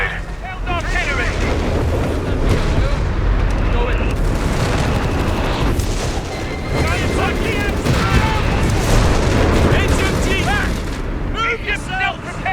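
Sustained battlefield barrage in the real-time strategy game Company of Heroes 3, a 4v4 match, with loud continuous booms and gunfire layered with in-game radio voices and shouting throughout.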